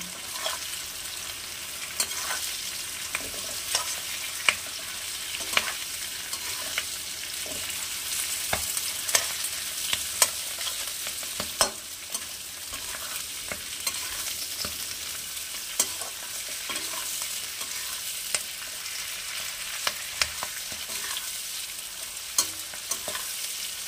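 Shredded cabbage leaves fry in oil for a Bengali-style khichuri, a continuous gentle sizzle under regular scraping and tapping stirs from a spatula, close and moderately quiet, with no voices throughout.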